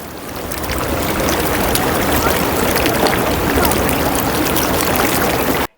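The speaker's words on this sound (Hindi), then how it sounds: "मैं आपको पानी का शोर सुनवाता हूँ।" Rushing water of a mountain stream in a high meadow near Lulusar Lake, with glacier and meadows around, roars loud and close as a constant broadband torrent, with no voices over it.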